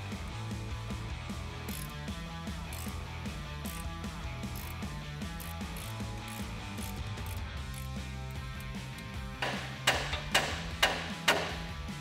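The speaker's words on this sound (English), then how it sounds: "hit that collar with a hammer to knock the ball joint" On a 2007-2018 Chevrolet Silverado 1500 front suspension, a hammer hits a collar to knock the ball joint loose. Several sharp metallic blows ring out near the end, following a stretch of steady mechanical clatter.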